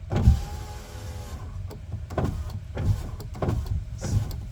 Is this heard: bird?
no